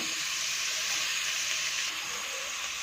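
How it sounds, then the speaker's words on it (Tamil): Onions sautéing in a pan for mint rice give off a steady, close, continuous sizzle and hiss that holds at an even level throughout, with no talking. "வெங்காயம் கொஞ்சம் நல்லா வதக்கோங்க"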